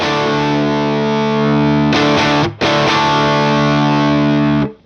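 Electric guitar through a UA Enigmatic amp with overdrive engaged, a loud sustained distorted chord with a brief break and re-strike midway, ringing until it is cut off.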